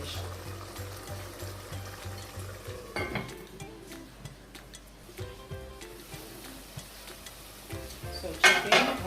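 Meat sauce for spaghetti cooks in a covered pan, with a steady low sizzle and bubbling broken by utensil and lid clinks and a louder clatter near the end.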